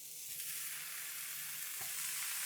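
Cheese frying in a hot dry pan with no oil over medium heat gives a steady, fairly quiet sizzle with faint crackles, with nobody talking.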